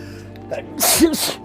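A single sharp sneeze from a person seated at a table, preceded by a brief intake of breath and bursting out close and loud over a quiet room.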